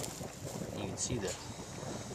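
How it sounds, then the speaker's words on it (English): Compressed air escaping through a leak in an underground sprinkler line in Florida gives a steady, close broadband hiss that rushes on without a break, with a slight swell near the middle and some wind-like noise around it. "It's just compressed air."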